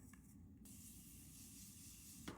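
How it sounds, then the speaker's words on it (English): Morphe Continuous Setting Spray misting continuously as a steady, soft hiss lasting a couple of seconds, close to the microphone, with a faint click at the end. "Setting with the Morphe Continuous Setting Spray."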